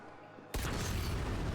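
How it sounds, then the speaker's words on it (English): A big explosion in the video game Dying Light: The Beast hits suddenly after a quiet moment and becomes a loud, sustained, roaring rumble that fills the rest of the clip. "Big explosion."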